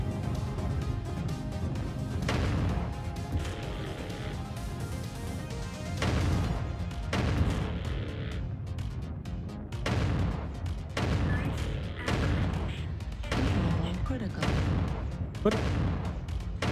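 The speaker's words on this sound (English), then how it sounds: "Airstrike online." Airstrike explosions in the mech combat game MechWarrior Online land as a series of heavy, crashing booms spaced every second or two over a constant battle rumble.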